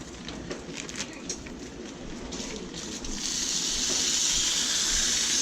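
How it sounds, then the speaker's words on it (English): Marinated fillets hit hot oil on foil and sizzle loudly, a steady hiss that builds and stays strong with no voices over it. "Sizzle."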